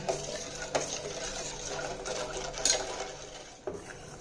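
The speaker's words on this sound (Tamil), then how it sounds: "நல்லா கொதிக்குதுங்க." Sugar syrup bubbling steadily in a pan, a quiet continuous simmer with occasional soft clinks and stirring scrapes.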